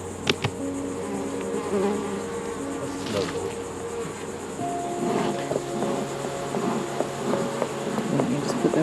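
Honey bees buzz steadily around an outdoor hive after a queen replacement, a dense continuous drone with individual bees passing close, while people talk briefly nearby.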